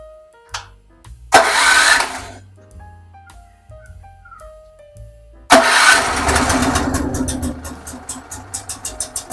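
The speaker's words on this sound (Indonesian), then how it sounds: "bunyinya kenceng ya, mau nggak mau lah, memang beginilah namanya. Genset ya" A genset used to keep pond aeration running is pulled to a start, first with a short burst that dies, then it catches and runs loud and close with a steady rumbling drone and rhythmic pulsing.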